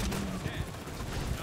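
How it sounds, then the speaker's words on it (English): Rapid video game gunfire crackles continuously through a competitive multiplayer match, dense bursts of shots layered under game noise with a player talking over the action. "I'm trying to shoot Talis"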